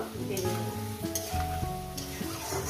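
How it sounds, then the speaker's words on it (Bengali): Okra and poppy seed curry fries with turmeric in a pan, crackling in a dense, loud sizzle as a spoon stirs and scrapes through it close by. "আবার আমি 4 মিনিট হলুদ দেওয়ার পর ভেজে নেব।"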